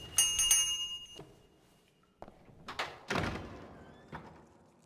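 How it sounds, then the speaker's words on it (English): A bell rings in the adventure game The Book of Unwritten Tales 2: a bright metallic ringing at the start, followed by several dull knocks and thuds. "The nice thing about the bell, Bill can't ignore me"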